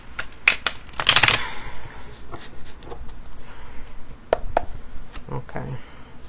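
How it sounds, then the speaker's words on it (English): Oversized tarot-style cards riffle and snap in quick bursts, a loud flurry early on, then scattered shuffling clicks and taps close by. "it's hard to shuffle this deck"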